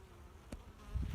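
Honeybees buzz faintly inside an opened hive, a soft continuous hum with brief louder passes of individual bees close by.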